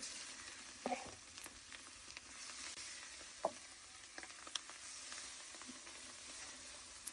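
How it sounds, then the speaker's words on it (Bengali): Rohu fish roe frying in a pan with onion, garlic and cumin, a steady soft sizzle running throughout with a few sharper pops and spoon scrapes. "এখন এটাকে জাস্ট ভাজা ভাজা করবো"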